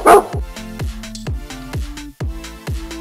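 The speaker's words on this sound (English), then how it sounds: "The dog." A dog barks once over a steady, bouncy musical backing with a repeating rhythmic beat.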